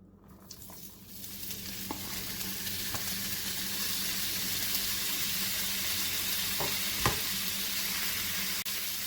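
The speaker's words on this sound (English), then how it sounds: "We're going to go ahead and stir this and fry it up and cook it all the way" Sliced beef smoked sausage fries in oil in a pan over medium-high heat, a dense sizzle that swells and holds steady, with a few soft scrapes and taps of stirring close by.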